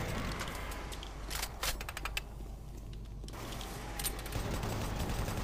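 A chaingun in the video game Doom 3 fires in rapid sustained bursts, a dense rattling clatter over game background noise, pausing briefly midway before resuming.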